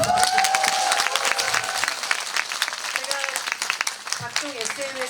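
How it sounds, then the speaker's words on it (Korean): Audience clapping at a film festival guest talk, a steady wash of applause with some crowd murmur while people talk over it. "박수 한번 부탁드립니다."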